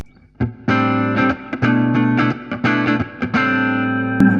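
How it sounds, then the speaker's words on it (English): Overdriven electric guitar through effect pedals rings out in a series of sustained strums with short breaks, thick and saturated with effects. "Let's hear some overdriven sounds now."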